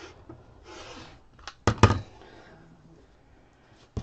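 Scissors snipping fabric strips for a chicken-shaped pot holder, a couple of short sharp cuts close by amid soft rustling of cloth.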